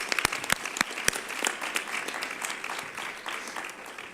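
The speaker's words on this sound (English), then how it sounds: "Can we give them one more round of applause?" An audience at a youth panel meeting gives a round of applause, opening with a few sharp, distinct claps that quickly swell into a dense, steady patter of many hands, heard at moderate level without talk.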